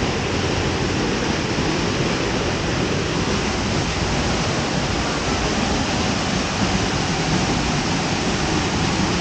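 A waterfall in Costa Rica gives a loud, steady, full-bodied roar of falling water that runs without a break the whole time.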